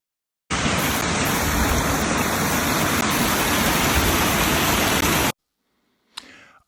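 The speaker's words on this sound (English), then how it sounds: "Listen to the tinkle tinkle of the beck of the stream." A garden stream with running water gives a steady, loud broadband rush that stops abruptly, followed by a brief faint sound.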